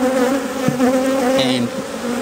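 Honeybees buzz loudly and close as a frame full of nectar is pulled from the hive, a dense droning hum with shifting pitch over a couple of seconds and no voices.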